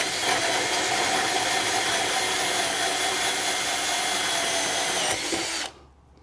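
A power drill drives a 1 3/4 inch hole saw through the wall of an RV trailer, holding a loud, steady high-pitched whir that cuts off sharply near the end.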